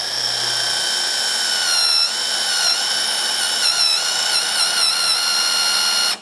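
A drill bores a hole with a Forstner bit, a loud, steady high whine with slight wavering in pitch that runs continuously, close and alone before cutting off at the end.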